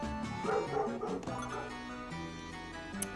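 A dog from the PSP release of Final Fantasy I gives short yips and barks early on, set against looping in-game music.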